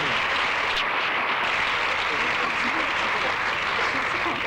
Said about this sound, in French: J'aimerais que vous applaudissiez la maman d'Isabelle et de Paul